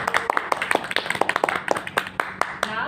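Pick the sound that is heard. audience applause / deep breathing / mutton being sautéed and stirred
audience applause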